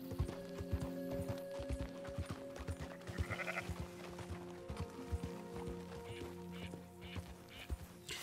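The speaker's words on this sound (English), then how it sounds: "I just found a sheep out in the wild" In a video game, a sheep out in the wild bleats against rhythmic horse hoof clip-clops and a steady musical drone, the bleats mid-clip and fairly faint under the hoofbeats.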